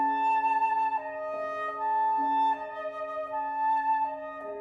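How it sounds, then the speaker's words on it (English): Flute melody drifting from a living room: a solo line of clear sustained notes stepping up and down in a slow, steady phrase, with no talking over it. "From the living room came the sound of Lisa's flute."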